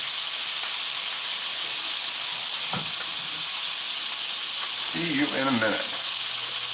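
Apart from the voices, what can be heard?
steak searing in a cast iron pan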